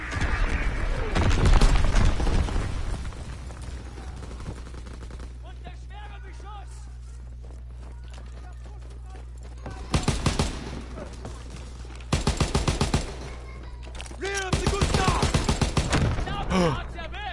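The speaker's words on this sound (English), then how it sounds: "Enemy mortar fire incoming." Bursts of gunfire and mortar blasts in Call of Duty WW2, with a heavy blast early, then separated rapid volleys of automatic fire. A voice talks in the quieter stretches between them.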